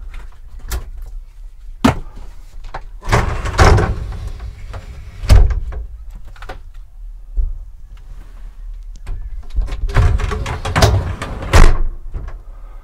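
The large shower door inside a 2008 Eura Mobil Terrestra TT 670 SB motorhome being opened and closed repeatedly, a series of loud knocks, clacks and sliding rattles close by with quiet gaps between, no talking.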